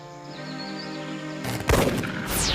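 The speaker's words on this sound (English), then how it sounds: "Somebody's shooting things again." Gunshots crack out suddenly over a sustained musical tone, a burst of loud sharp reports followed by lingering noise.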